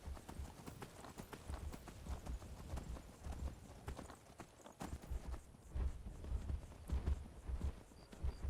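Rhythmic clip-clop of horse hooves at a steady trotting pace, continuous and fairly close, with no voices, in the video game Skyrim.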